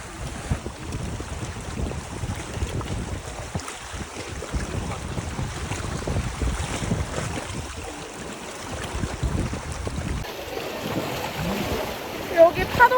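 Strong ocean waves surge and wash at a rocky coastal snorkeling spot in Gyeongju, Korea, a continuous loud rush mixed with wind buffeting the microphone.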